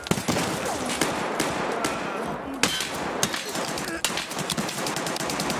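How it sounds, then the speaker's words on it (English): Escape From Tarkov gunfire rattles almost continuously in rapid automatic bursts, loud and close throughout, with a few sharper individual cracks. "Where am I being shot from?"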